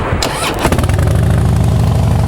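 A used Harley-Davidson Heritage Softail Custom FLSTC motorcycle engine fires up after a brief crank, then settles into a loud, close, steady lumpy idle.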